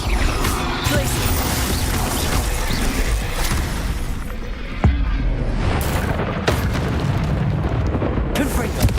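Repeated booming spell blasts and crashes from combat in Hogwarts Legacy, loud and continuous, with a voice shouting spell names over the impacts.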